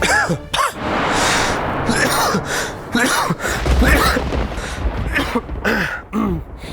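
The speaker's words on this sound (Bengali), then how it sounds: "তুমি কাশছো গলার যত্ন নাও" Several sharp, harsh coughs and throat-clearing bursts break up a steady stretch of speech, close and fairly loud.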